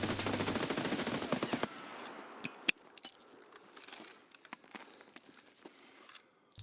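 Loud, sustained automatic gunfire in Escape From Tarkov opens the clip, then gives way to a string of sharp, separate shots and metallic clicks against a quieter background.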